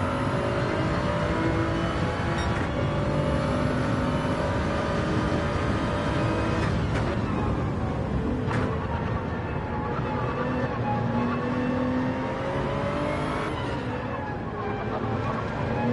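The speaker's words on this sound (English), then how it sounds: "Really cool on board of the Supra to close this full lap on the fast section here." Toyota Supra race car held at full throttle through a fast section of Grand Valley Highway in a racing video game, a steady loud engine whine with rising gear pitches and brief shift breaks, continuous throughout.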